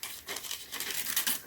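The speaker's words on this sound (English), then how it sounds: "So there's a plain tissue paper." Plain tissue paper crinkles and rustles in quick, close handling bursts while Supreme x Nike Air Force 1 Low sneakers are unboxed; the crackling is soft and continuous for about a second and a half.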